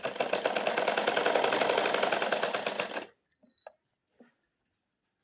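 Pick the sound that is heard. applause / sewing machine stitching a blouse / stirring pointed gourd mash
sewing machine stitching a blouse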